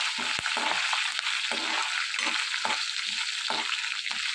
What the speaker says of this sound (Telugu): ఎల్లుల్లిపాయలు, జీలకర్ర, కరివేపాకు, ఎండుమిర్చి వేసుకుని ఇవన్నీ కూడా బాగా ఫ్రై చేసుకోవాలి